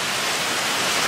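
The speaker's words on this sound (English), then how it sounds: "Back to the waterfall." Steady, dense rushing of a mountain waterfall, a continuous broadband roar close by with no voices.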